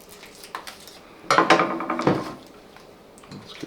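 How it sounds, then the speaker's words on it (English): Scissors snipping open an organic instant coffee packet for backpacking: a short cluster of crisp cutting and crinkling sounds at close range, with quieter rustling before and after. "I'm going to use my scissors since I have them here."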